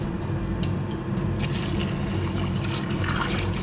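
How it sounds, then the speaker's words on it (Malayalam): Cornflour slurry poured into boiling jaggery in a pan for halwa, a steady liquid pour and bubbling simmer running continuously throughout, fairly close, with no talking. "ഞാൻ ഗ്യാസ് കുറച്ച് വെച്ചിട്ട് നമ്മുടെ ഈ കോൺഫ്ലോറിലെ കലക്കി വെച്ചിരിക്കുന്ന അതിനകത്ത് ഒഴിച്ചു കൊടുക്കാം."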